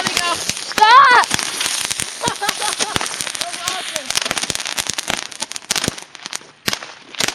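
Fireworks and firecrackers go off close by in a rapid string of sharp cracks, pops and crackling bursts, with whistling shots among them and excited people shouting throughout.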